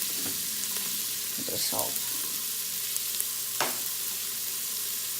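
Onions, one large yellow and a bit of red, sizzle steadily in plain oil in an Instant Pot for diner-style chili, with occasional stirring scrapes and a brief spoken remark over the frying.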